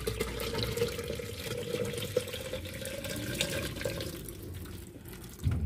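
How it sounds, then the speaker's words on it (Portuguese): Hot water pours steadily onto the plastic agitator of a Consul 12 kg washing machine, a continuous close splashing rush that lasts throughout and ends with a brief clunk. "vou jogar um pouco de água quente pra amolecer o plástico"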